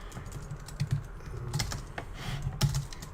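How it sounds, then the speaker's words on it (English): Keys clacking on a computer keyboard as a programmer works through a Codeforces Div1-B problem, with the microphone placed behind the keyboard; irregular bursts of close, fairly soft keystrokes with no talk. "If I put my microphone behind my keyboard, I think you will hear the keys better"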